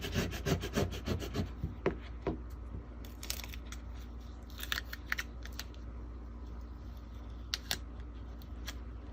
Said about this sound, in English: So you're gonna burnish it hard and peel back slowly.